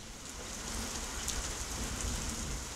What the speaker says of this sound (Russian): Холодный ветер приносит дожди